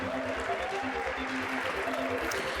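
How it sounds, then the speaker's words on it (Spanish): An audience at a Nerd Nite talk in Santiago, Chile, claps steadily over upbeat music with a thumping beat. "aplauso gigante, por favor"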